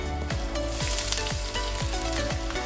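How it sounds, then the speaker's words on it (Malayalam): Mustard seeds, curry leaves, ginger and garlic fry in hot oil with a steady, loud, close sizzle, broken by regular crackling pops and scraping stirs roughly every half second. "അതിനുശേഷം കുറച്ച് കറി ലീഫും ആഡ് ചെയ്തതിന് ശേഷം ആവശ്യത്തിന് ജിഞ്ചറും ഗാർലിക്കും ആഡ് ചെയ്യുക"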